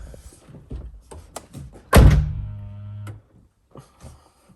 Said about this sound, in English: Yeah, close the door.